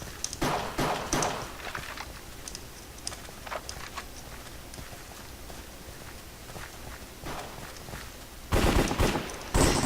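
AK-47 gunfire in a Minecraft cops-and-crimes game, bursts of sharp rapid game shots scattered across the stretch, with a denser loud volley near the end over faint background noise.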